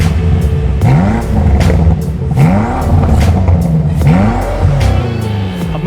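A BMW M5 Competition revving hard, loud and close, with repeated rising blips of the engine spaced about a second apart over a deep steady rumble.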